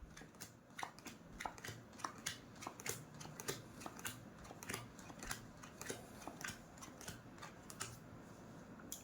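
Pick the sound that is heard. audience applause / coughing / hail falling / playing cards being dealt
playing cards being dealt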